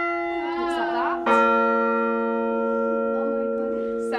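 A single church tower bell rings out from its clapper strike, a sharp onset followed by a long, steady humming resonance that slowly decays; faint speech-like sounds precede the strike.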